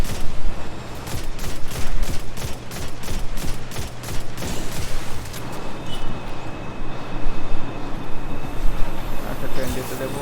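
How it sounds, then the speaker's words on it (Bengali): Train rumbling past in the Destiny 2 Grandmaster Nightfall Warden of Nothing, a loud rolling rattle with rhythmic clacking over the first few seconds, then a steady mechanical roar, with players talking over it. "Wait, ট্রেন পাস করতে দে।"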